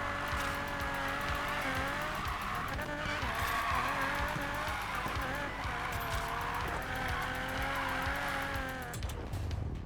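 Racing game engine roar and tire squeal from a drift race in Need for Speed Payback, loud and continuous with rising and falling revs throughout, briefly dropping near the end.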